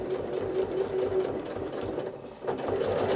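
A sewing machine runs steadily while stitching a rail fence quilt block, a continuous close mechanical whir with a brief dip in speed before it picks up again.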